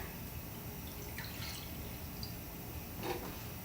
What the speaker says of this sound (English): And we're just going to get a little bit of water in there.